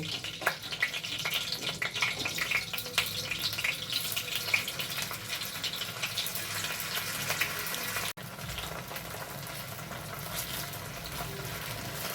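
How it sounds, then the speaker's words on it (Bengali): Paneer pieces frying in hot white oil in a kadai, a dense, continuous bubbling sizzle at close range, briefly dipping around the middle before carrying on steadily. "এখন আমি পনিরগুলোকে ভেজে তুলব।"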